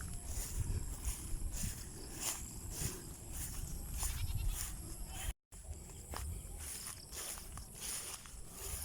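Goats on a farm bleat repeatedly in short, wavering calls over rustling and shuffling movement nearby, with no talking, and a brief dropout partway through.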